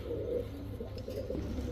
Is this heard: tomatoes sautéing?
no